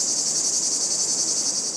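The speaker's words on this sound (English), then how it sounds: "cicada brood 10 will emerge from the ground after 17 years" Brood X 17-year cicadas buzz in a dense, unbroken high-pitched drone that holds steady and loud throughout, with no other sounds.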